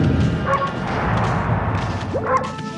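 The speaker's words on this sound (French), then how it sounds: "hop, je peux aboyer, écoutez." Wolf barking in the video game Okami, two short yips about two seconds apart over a steady ambient game backdrop.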